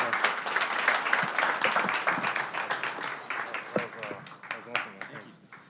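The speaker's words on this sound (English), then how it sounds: "Round of applause." An audience breaks into sustained applause at a tech talk, the dense clapping holding steady for several seconds before thinning toward the end, with a voice heard over it.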